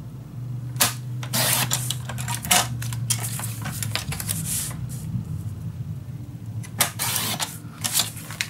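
Scissors cut paper for a scrapbook folio with a series of close, crisp snips and rustles at an irregular rhythm, some spaced apart and others clustered together.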